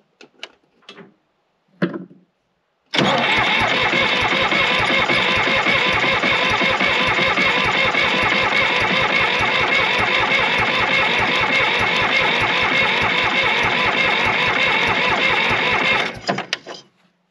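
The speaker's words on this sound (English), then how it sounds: "We're gonna crank her over and see if those injectors have any juice coming out of them now." The engine of a John Deere 350B crawler cranks and catches after a few short bursts, then runs loud and steady up close with a fast rhythmic chugging for over ten seconds before cutting off.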